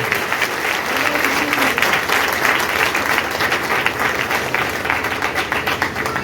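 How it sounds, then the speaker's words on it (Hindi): Sustained audience applause at a church thanksgiving prayer gathering, a steady dense wash of many hands clapping, loud and continuous throughout, with a voice faintly underneath. "जोर से ताली दें"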